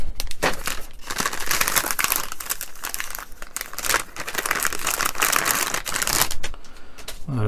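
A Hachette Titanic model kit issue being unpacked from its box, with loud close crinkling and crumpling of plastic and cardboard, continuous rustling with short pauses.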